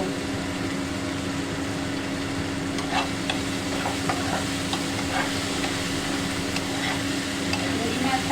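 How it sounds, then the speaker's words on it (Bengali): Prawns and green chilies fry in a pan with a steady, close sizzle and occasional stirring clinks, continuous throughout with no talk. "ভাজা ভাজা হয়ে গেছে"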